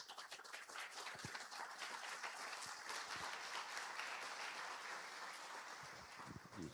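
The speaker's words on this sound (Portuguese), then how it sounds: "Recibamos nuevamente con un cálido y afectuoso aplauso al señor Carlos Campetti." A lecture audience in Honduras warmly applauds to welcome a guest speaker. The clapping is dense and continuous and sounds somewhat distant and quiet, with distinct individual claps standing out near the start and end.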